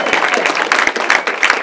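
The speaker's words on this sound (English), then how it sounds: "So let's give Carly another round of applause." Brief burst of audience applause at a business networking event, close and loud, dense clapping from a room of people.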